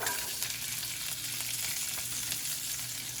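Onions sizzle and fry in bacon fat in a hot pan, a steady, crackling sizzle at moderate level with occasional stirring, no voices.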